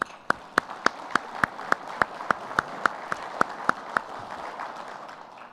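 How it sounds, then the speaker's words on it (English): Conference attendees at the 2019 OGRA Conference applaud their staff. A steady, evenly spaced run of about a dozen sharp, close claps sounds over a softer wash of scattered clapping, and the crowd noise fades away at the end. "I just want to offer them a little round of applause if we could"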